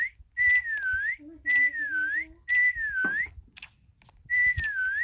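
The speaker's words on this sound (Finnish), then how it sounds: "Mut sen olen minä, kuka viheltelee." A person whistles a repeated short melodic phrase in several bursts across a few seconds, close and clear against a quiet background while playing a game, with a brief faint low hum.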